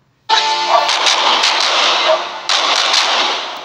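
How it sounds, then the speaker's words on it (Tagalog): Fireworks bursting nearby in loud crackling explosions that start abruptly and roll on as a continuous sizzling barrage, with a brief dip before another burst. "Nagulat si Baby Beyonce sa sa fireworks"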